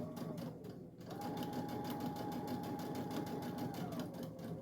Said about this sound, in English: we are going to sew from the corner, following our line all the way down to the other corner